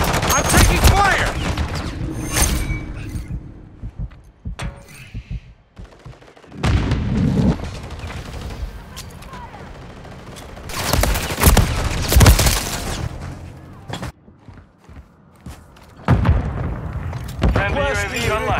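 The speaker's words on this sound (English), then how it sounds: "I'm taking fire." Gunfire in a Modern Warfare 3 team deathmatch, with loud bursts of automatic rifle fire and rattling volleys coming in several clusters, some close and harsh, interspersed with quieter gaps and voices talking.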